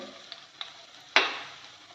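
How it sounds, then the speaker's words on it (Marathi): Garlic dropped into hot oil already holding ginger and green chilli pieces for a masala uttapam, giving a sudden sharp sizzle that hisses steadily after a couple of faint ticks, close and fairly quiet. "त्याच्यात हे आलं आणि मिरचीचे तुकडे घालून जरासं परतून घेऊया हे बघा लसूण टाकते"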